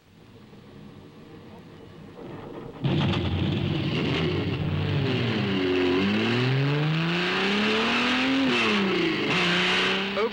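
A 1957 Maserati Grand Prix racing car roars into life on the Modena Autodrome, its engine loud and close as it revs up and down through rising and falling pitch sweeps, with someone narrating over it.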